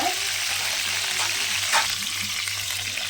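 Eggplant sautéing in hot oil in a pan for Tamil kara kuzhambu, a steady close frying sizzle with a faint hum beneath and one brief stir or scrape partway through.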